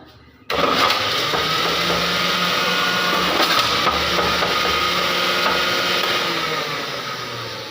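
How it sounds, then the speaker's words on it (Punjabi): Mixer-grinder juicer running to extract onion juice, switching on abruptly and then giving a loud steady whirring, rattling drone that eases slightly near the end. "ਪਿਆਜ਼ ਦਾ ਰਸ ਕੱਢਣ ਲਈ ਬਸ ਮਿਕਸੀ ਵਿੱਚ ਜੂਸਰ ਵਿੱਚ ਤੁਸੀਂ ਕਰ ਲੈਣਾ ਹੈ"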